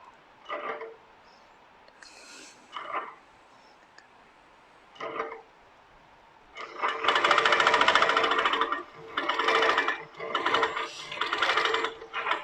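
Pro-Stitcher Lite computerized quilting machine making tie-off stitches: a few short separate mechanical bursts, then longer rapid chattering runs of stitching with brief pauses, close and fairly loud.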